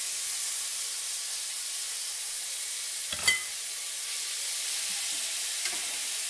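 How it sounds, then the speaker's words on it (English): Zucchini noodles sautéing in olive oil in a cast iron pan give a steady, soft sizzle and hiss throughout, with a brief clatter of stirring near the middle and a fainter one toward the end. "And take the zucchini, toss it in there."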